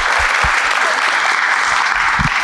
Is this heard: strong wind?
no